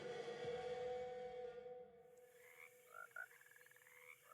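A frog croaks in the video game Alone in the Dark, repeated rattling croaks in the second half over a steady tonal game drone, fairly faint.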